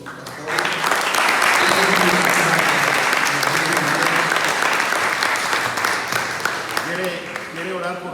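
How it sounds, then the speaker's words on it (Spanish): Applause from a church youth retreat audience, a dense, sustained wash of clapping from a full room that swells at the start and carries on steadily for several seconds before thinning slightly toward the end. "Le damos un aplauso a Dios por la vida de los pastores."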